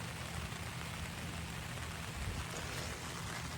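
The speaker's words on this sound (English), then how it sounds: "as you can hear, it's raining" Steady rain patter at a campsite in Southern Virginia with a low engine-like hum underneath, a constant wash of noise with no voices.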